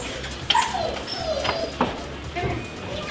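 Several dogs, including shepherds, at an aggression training session whimper, yip and give sharp barks close by. The cries are high and wavering and rise and fall in short bursts over a noisy background.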